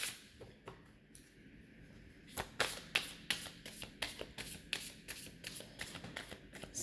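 Playing cards shuffled by hand to clear them, a run of crisp riffling bursts that quicken and repeat in quick succession, close and fairly quiet, with no voices.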